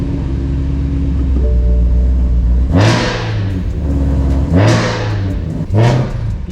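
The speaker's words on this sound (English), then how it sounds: "You hear my supercharger whining?" A supercharged BMW E92 M3 pulls hard through three rising acceleration runs, each ending in a shift, with the engine roar overlaid by a climbing supercharger whine; close and loud, with no talking.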